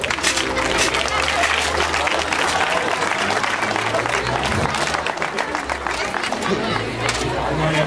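Applause from a crowd at a carnival town hall storming, steady dense clapping throughout with chatter, cheers and voices of many people mixed in, fairly distant and continuous.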